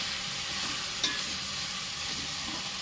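Food fries in a pan with a steady, dense sizzle while it is stirred. One brief scrape of the utensil rises above the constant hiss.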